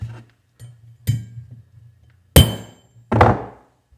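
A few hammer strikes on a metal crimp, the hammer angled, the last two louder and sharper with a brief metallic ring, spaced irregularly with quiet gaps between.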